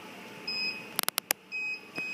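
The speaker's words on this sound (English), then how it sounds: "let's beep twice to let me know that it's in there." A laser cutter gives a quick cluster of short, sharp electronic beeps at close range, amid faint steady whining tones and a quiet room hum.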